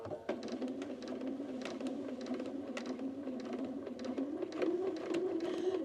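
A domestic sewing machine stitches fabric slowly around a curve, a close, steady mechanical hum with quick rhythmic needle ticks, easing briefly then picking up pace near the end, with no speech.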